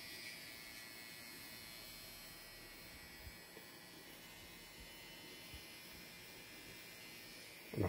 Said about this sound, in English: So that's a nose hair trimmer, ear hair trimmer. Not too noisy as you hear.